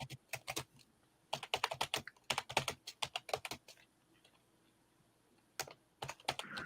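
Rapid bursts of computer keyboard typing, hard and fast keystrokes in clustered runs with brief pauses between, fairly close and clear against a quiet background.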